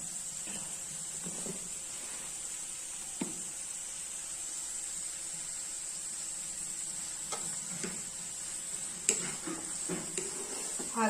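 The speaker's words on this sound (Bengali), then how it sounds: "একটু হালকা ফ্রাই করতে হবে। এটা একটু হালকা ফ্রাই হবে।" Light frying in a pan over a gas flame, a soft steady sizzle with occasional stirring scrapes and clinks, close and moderately quiet throughout.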